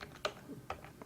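Keystrokes on a computer keyboard while entering a command on a Windows Server 2008 machine, a few separate clicks at an uneven pace, close and fairly quiet, with no voice.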